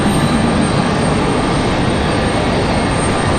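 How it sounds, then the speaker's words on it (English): An executive jet takes off from Raleigh Durham International Airport, a loud, steady broadband engine roar that fills the whole clip without letting up. "We got a exec jet departure firing out of here."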